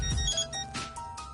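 Phone ringtone in the video game Death End Re;Quest, a short electronic melodic chime of several bright tones in quick succession, clear and moderately quiet with no talk over it.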